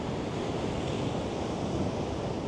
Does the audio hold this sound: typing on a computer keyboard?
no